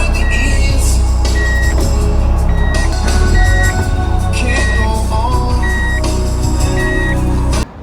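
A Nissan Figaro backs into a parking spot, with a regular series of short high beeps repeating about once a second over a low engine idle and music, ending abruptly.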